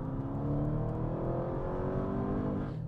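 A 2024 Audi RS7 in RS mode accelerates hard, its engine note rising steadily and loud throughout with a continuous revving roar, heard close and alone without talk.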